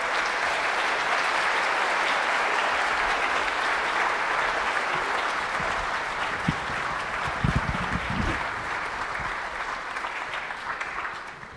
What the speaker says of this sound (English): Give them a nice round of applause.